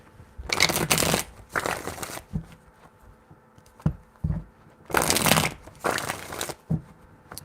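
A deck of cards is shuffled in four bursts, each a quick riffle of crisp papery flutter close by, separated by soft taps and brief pauses.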